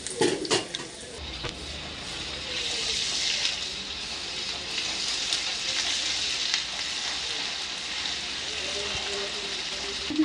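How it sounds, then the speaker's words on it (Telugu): Ginger garlic paste frying in oil, opening with a clatter of utensils as it goes in, then a sustained bright sizzle and hiss that holds steady until the end. "అల్లం వెల్లుల్లి పేస్ట్ ఒక స్పూన్ వేస్తున్నాను."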